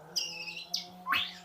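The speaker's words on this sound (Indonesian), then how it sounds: "murai yang baru bunyi dia" An oriental magpie-robin (murai) sings a few short, bright whistled phrases separated by brief pauses, heard clearly against a quiet background with a low steady hum.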